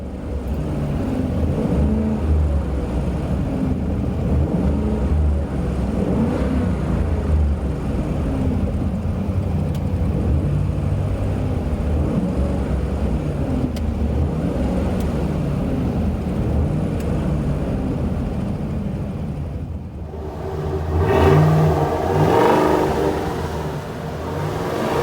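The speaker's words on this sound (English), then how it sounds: "Interior tone level is mild with this F-Flo Pro Big Oval True Dual Exhaust." A 2019 Ford F-250 6.2 pickup with a Flo~Pro Big Oval true dual exhaust hums and revs steadily from inside the cab, a mild throaty drone that dips briefly and then surges again.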